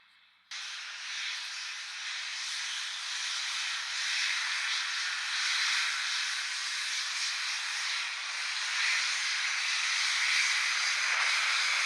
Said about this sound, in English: now we've got the Ryanair Boeing 737-800 coming in from Dublin